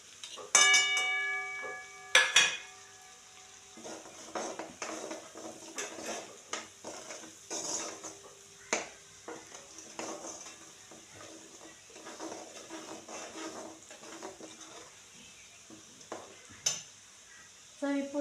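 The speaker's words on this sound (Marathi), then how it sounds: "चांगलं फ्राय होऊन द्यायचं आहे ते." Spring onion greens frying in a pan with cumin, onion-garlic masala, red chilli, turmeric, coriander powder and mustard seeds, a quiet sizzle under repeated clinks and scrapes of a spoon stirring against the pan.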